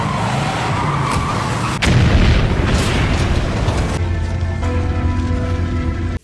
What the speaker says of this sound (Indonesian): dia membiarkan mobil tersebut melaju dan menabrak laboratorium dan menyebabkan ledakan